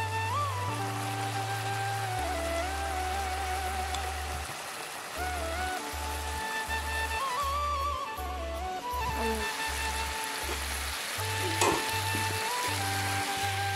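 Fish head fries in a pan of hot oil, giving a steady close sizzle with crackling and a few stirring sounds. No voices are heard.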